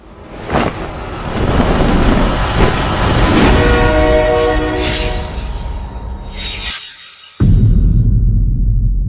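Train sound effect: a loud rolling rumble of wheels and cars with a long horn blast sounding over it, then a brief cut to quiet before a heavy low rumble resumes near the end.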